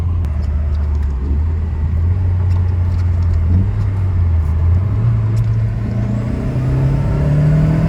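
A VW Golf GTI 337 accelerates hard, its engine drone rising steadily in pitch from inside the car as the tires break traction, a continuous rumbling pull with no talk.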